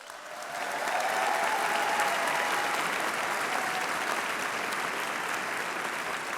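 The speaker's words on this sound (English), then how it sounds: "let's give a round of applause to all of these medallion-level sponsors" A large audience at the 37th Hispanic Heritage gathering applauds sponsors, producing a broad, even wash of clapping that swells in after a brief moment and continues steadily without talk.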